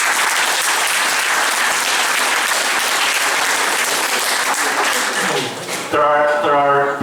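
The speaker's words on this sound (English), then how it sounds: "I think a round of applause for Aunt Gertie would be" Sustained, loud applause from a crowd at a community gathering event, dense steady clapping filling most of the clip before fading as a voice begins speaking at the end.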